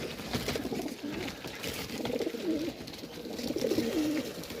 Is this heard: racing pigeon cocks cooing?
yes